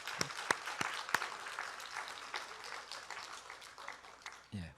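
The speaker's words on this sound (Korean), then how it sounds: "한번 축하 박수 한번 하실까요?" A church congregation gives congratulatory applause, a quiet, scattered patter of many hands with a few sharper claps standing out early, tapering off before a brief rustle at the end.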